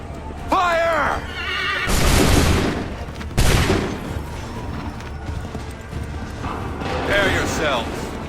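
A musket volley rings out in Assassin's Creed 3 as two loud, crackling bursts of massed gunfire, with horses whinnying and shouted commands around the shots.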